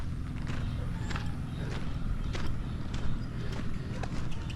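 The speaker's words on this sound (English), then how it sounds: "Uh-oh, we got horses coming now." Horses walk along in the Philippines, their hooves clip-clopping in a steady, uneven patter at close to middle distance over a constant low rumble of outdoor noise.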